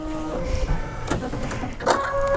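Embroidery sewing machine running its automatic needle threader, a close mechanical whirring and clicking with a few sharp clacks as the mechanism moves, steady throughout with no voices.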